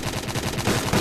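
A Luger pistol fires in a World War II style shooter game, with rapid, evenly spaced shots cracking in a quick near burst across a second, loud and alone.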